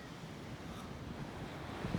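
Ocean waves at a beach campsite, a faint, low, continuous wash of surf mixed with wind rumble on the microphone, with no talking.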